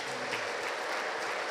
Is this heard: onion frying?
no